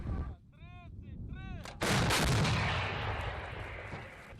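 After a couple of short whistle-like beeps, a single massive 155 mm FH-70 howitzer blast booms close by, its rumble rolling and slowly fading.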